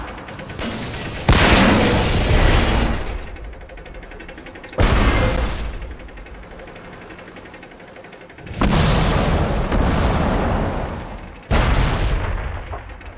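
Four heavy tank cannon blasts boom out in World of Tanks, each sharp report followed by a long rumbling decay, spaced a few seconds apart and loud against quieter battle ambience.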